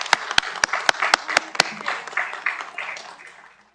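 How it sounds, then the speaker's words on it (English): Audience applause at a school board meeting: sharp individual claps at the start, then a dense steady round of clapping that fades out over a few seconds. "they're also clapping for your teachers"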